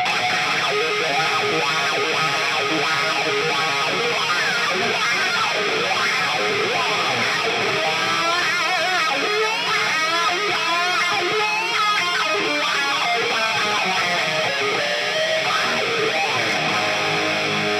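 An electric guitar runs through a wah pedal into overdrive, a dense distorted wall of sound with sweeping wah-filtered leads and squealing runs, loud and continuous throughout.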